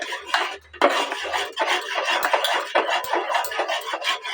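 A spoon stirs carrot sweet with ghee in a pot, making repeated close scraping and clinking strokes against the metal in an uneven rhythm, with no talking.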